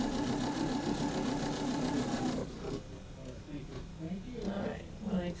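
Sewing machine running a short back stitch, a dense mechanical whirring that stops about halfway through, after which people talk in the room.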